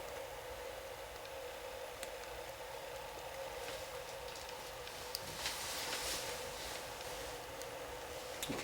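Water heats in a pot over an Esbit solid fuel tablet stove, a faint, steady hiss and soft rumble of warming water with occasional small ticks and pops building slightly toward the end.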